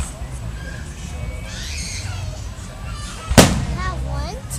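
A single sharp firework burst cracks loudly in the sky, preceded by a faint whistle, while a small child and an adult talk excitedly around it.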